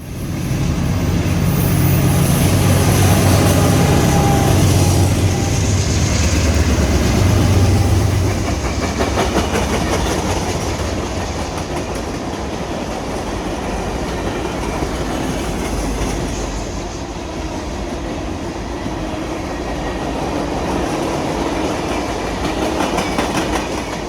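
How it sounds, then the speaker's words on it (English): A Providence and Worcester freight train hauls empty rock hoppers past, a loud sustained rumble of rolling cars with rhythmic clickety-clack and occasional wheel squeal that eases slightly as it continues. "The FPCH seen here is the empty backhaul of rock hoppers."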